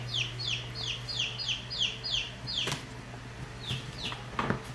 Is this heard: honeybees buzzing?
no